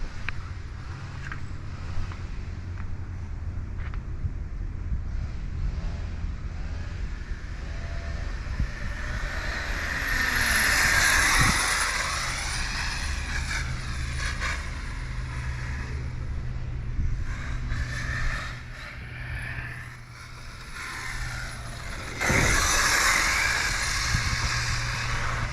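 A Kyosho Inferno GT-1 RC car drives past with a rising and falling electric whine that swells to loud near passes around the middle and end, over steady wind noise.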